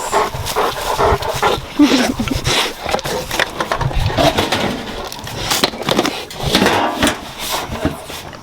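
A dog barks and whimpers amid steady outdoor noise, its sounds close and repeated over several seconds.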